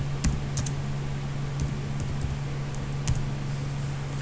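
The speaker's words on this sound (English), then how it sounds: "Here I am typing my file." Scattered clicks of keys on a computer keyboard, irregular and close, with a few louder taps over a steady low electrical hum.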